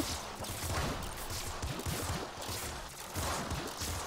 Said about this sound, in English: They're freaking firing, like, expertly sniper shots down these, like, tiny corridors and hitting me.